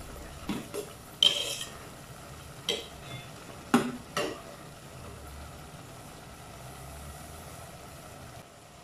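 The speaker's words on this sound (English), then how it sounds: "Then add some chopped coriander leaves. Stir it slightly to avoid burning." A spoon stirs cumin rice with chopped coriander leaves in a pot, a few sparse scrapes and clinks against the metal over a quiet low background, close with no talking.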